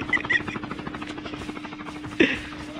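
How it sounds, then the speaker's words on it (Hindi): Helicopter in the Call of Duty Mobile battle royale game gives a rapid rhythmic rotor chop throughout, with a sharp burst of gunfire near the end. "हेलीकॉप्टर को गिरा दो"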